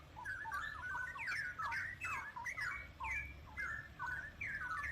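A tamed wild straw-headed bulbul gives a run of rich, warbling calls and squawks, loud and close, repeating in bursts over steady low background noise.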